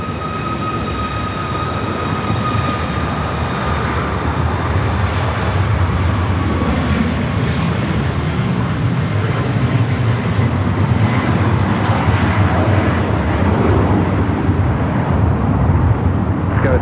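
Airliner taking off from runway 24 left at LAX, a steady loud jet engine roar with a sustained whine, constant throughout with no talk over it.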